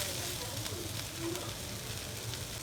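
Broccoli and bell peppers sautéing in a pan: a steady, dense sizzle with a continuous hiss close up, occasionally stirred, with no pauses.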